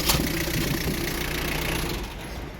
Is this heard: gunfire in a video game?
no